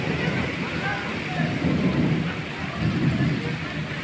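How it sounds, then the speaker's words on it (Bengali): Heavy rain pours steadily in a Bengali village while low rolling thunder rumbles through the middle and end, a dense continuous wash of sound with some faint background voices. "প্রচুর পরিমাণে মেঘের ডাক যাচ্ছে আর ঘুরে ঘুরে বৃষ্টিও হচ্ছে"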